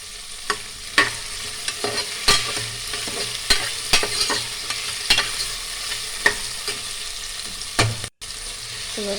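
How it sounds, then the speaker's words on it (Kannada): Carrots and curry leaves fry in oil in a pan for vegetable pulao, with a steady sizzle under repeated sharp scrapes and knocks of a spoon stirring, and no talking. "ನೀಟಾಗಿ ಮಿಕ್ಸ್ ಮಾಡಿಕೊಂಡು ಚೆನ್ನಾಗಿ ಫ್ರೈ ಮಾಡ್ಕೋಬೇಕು."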